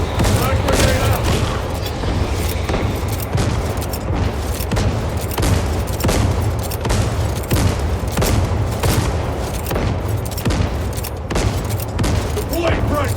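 Frag grenade blasts and dense gunfire from a Warhammer 40,000: Space Marine 2 battle roar nearly nonstop, with repeated sharp bursts over a heavy low rumble and voices talking through the din.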